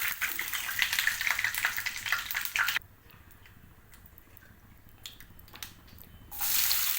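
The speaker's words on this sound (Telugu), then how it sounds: "కొంచెం జీలకర్ర, ఆవాలు, అవి కొంచెం వేగిన తర్వాత" Cumin, mustard seeds and dals fry in hot oil with a bright, close sizzle that crackles for about three seconds. The sizzle then drops to quiet pan clatter and picks up again at the end.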